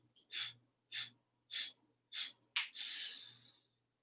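Five sharp, forceful nasal exhales in an even pump during seated Bhastrika yoga breathing, the last one drawn out into a longer breath. Close and loud, no talking.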